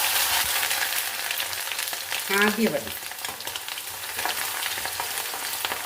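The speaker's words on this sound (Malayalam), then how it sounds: "ഇത് ഇഞ്ചി വറുത്ത് കോരുമ്പോൾ ഒട്ടും തന്നെ കരിയരുത് കേട്ടോ" Ginger pieces fry in hot oil for a Kerala-style ginger curry, a loud, steady sizzle and crackle with stirring, while a voice speaks briefly midway.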